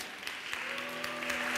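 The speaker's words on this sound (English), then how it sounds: "Please applause for them." Applause from an audience at a climate change summit greets two children, Matei and Ioana, a dense, even patter of many hands with a faint tonal hum beneath, swelling slightly toward the end.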